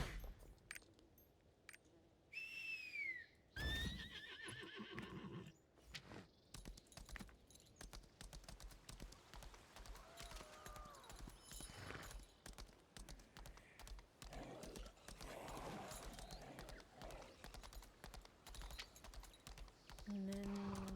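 Video game horse neighing and clip-clopping hooves, a rising whinny near the start followed by steady hoofbeats mixed with game sound effects, keyboard clicks and occasional talk over a continuous busy background.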